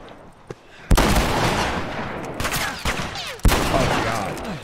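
Loud, close gunfire in The Last of Us video game, shotgun blasts with sharp onsets that each ring into a dense, echoing roar, several hits in quick succession with no pause between them.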